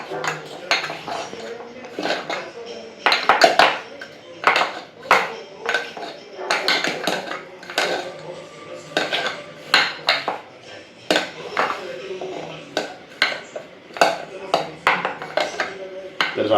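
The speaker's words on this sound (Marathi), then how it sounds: "आता हे पण काबुली चणे पण मिक्स करून घेऊया कॉर्नफ्लोअरमध्ये." Chickpeas being mixed into cornflour in a bowl for chana koliwada, with repeated clinks and clatter of a spoon against the bowl in uneven bursts and pauses.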